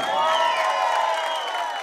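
Applause and cheering from a live comedy show audience in Belo Horizonte, Brazil, in 2008 fill the space as a steady, bright, sustained wash of clapping and whoops, fairly loud and close.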